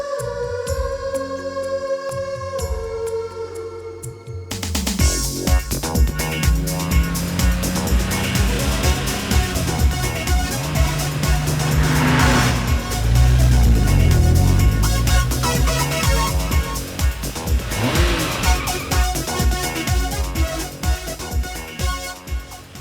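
A custom car called Tarzan, its fuel pump just repaired, starts up and drives off with a loud, sustained engine roar and shifting revs. Music plays at first, and the engine noise runs on to the end.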